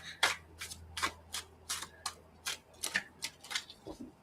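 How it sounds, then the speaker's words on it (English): Playing cards are shuffled and riffled by hand up close, producing a rapid series of crisp, rhythmic snapping flutters, fairly quiet with no talking. "All right, one last shuffle."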